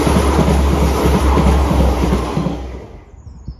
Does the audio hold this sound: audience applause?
no